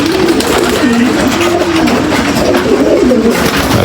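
Racing pigeons coo steadily in a loft, a dense chorus of overlapping rolling calls that carries on loud and close without a break.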